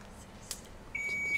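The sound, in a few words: quiz buzzer sound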